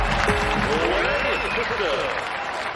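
Stadium crowd applauding and cheering at a tennis-style match in the London 2012 Xbox 360 sports game, a steady continuous roar of clapping with commentator talk over it.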